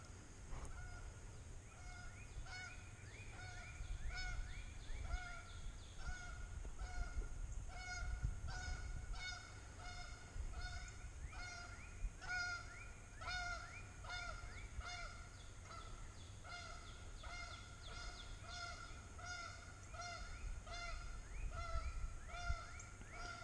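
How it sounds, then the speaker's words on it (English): Geese flying in over a campsite, honking repeatedly in overlapping calls from a sizable flock, fairly faint and distant against low wind rumble, with no talk. "Geese are flying in from everywhere, man."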